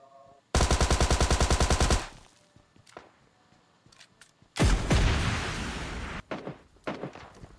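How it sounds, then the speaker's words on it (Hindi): During a PUBG Lite fight in a junkyard, a rapid rattling burst of automatic fire is followed a few seconds later by a loud roaring blast from an RPG that slowly trails off, with scattered light clicks and steps between. "आरपीजी चला रहा है एक बंदा।"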